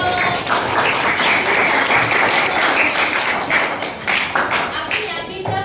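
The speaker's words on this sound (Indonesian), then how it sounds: "tepuk tangan dulu" A classroom or meeting crowd breaks into loud, dense applause, with many hands clapping together in an even roar that lasts several seconds before tapering slightly at the end.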